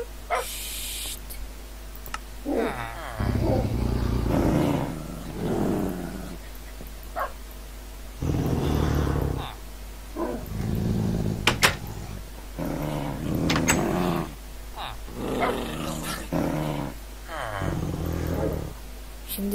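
Angry dogs from the Doggy Style mod in Minecraft growl, snarl and bark in repeated bursts, fairly close and loud, with short yips and whimpers between them and occasional game clicks.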